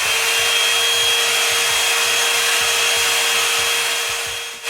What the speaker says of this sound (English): You want to use your blow dryer.